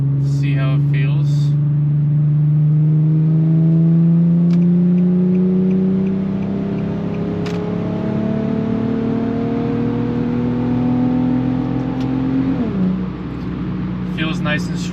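A Nissan VQ37-powered car fitted with ISR high flow catalytic converters drives on the road, its engine drone rising steadily in pitch through a long pull before a gear change drops it, heard from inside the cabin with brief clatter at the edges.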